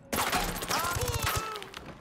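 Gunfire in the video game Ghost Recon Breakpoint during a night-vision raid near a helipad: a rapid burst of loud overlapping shots, close and dense for about two seconds, with voices underneath.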